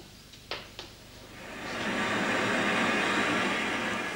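A red train passes a station platform. Two sharp clicks come first, then a broad rushing roar builds and holds steady and loud as the carriages go by.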